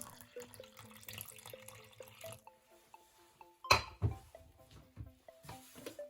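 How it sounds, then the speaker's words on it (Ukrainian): Warm water pours into a bowl of flour and salt for dumpling dough in a home kitchen, a soft trickling splash with a louder burst midway and faint clinks around it. "Додаємо щепотку солі і вливаємо тепленьку воду."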